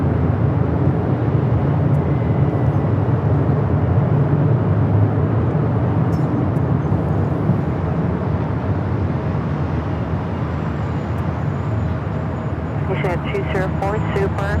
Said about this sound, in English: A380 arrival.